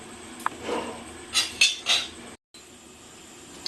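A lid is set onto a pan of potato and okra curry, producing a few close metallic clinks and taps in quick succession before the kitchen goes quiet.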